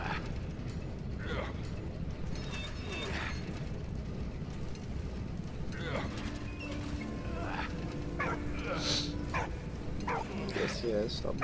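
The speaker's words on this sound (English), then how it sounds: "Yes, stop barking at me." Dog barking in the World War I video game Valiant Hearts, short barks and yips scattered over a busy game soundtrack with mechanical clicks, while someone talks throughout.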